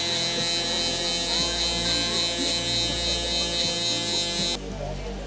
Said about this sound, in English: now we're gonna come in with our foil shaver to get it nice and close to the skin